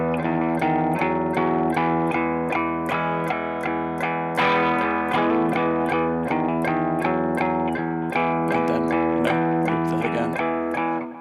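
Distorted electric guitar plays a song's verse, a repeating riff followed by strummed chords, evenly picked notes in a steady rhythm, alone and fairly quiet.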